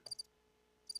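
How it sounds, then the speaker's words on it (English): Chirping cricket sound effect fired from a RodeCaster Pro pad: two short bursts of high chirps, one at the start and one at the end, with near silence between. "Crickets."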